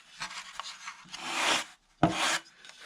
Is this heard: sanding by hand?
yes